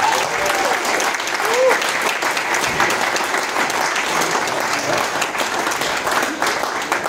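A conference audience applauds the co-chairs at a closing session, producing a sustained, even round of clapping that fills the hall for several seconds, with murmurs of crowd noise mixed in.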